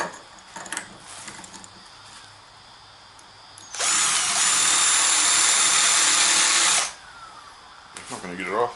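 A power tool grinds a burr from inside a kayak steering part, a single loud, steady, high whine lasting about three seconds, preceded and followed by quiet handling clicks and rustles nearby.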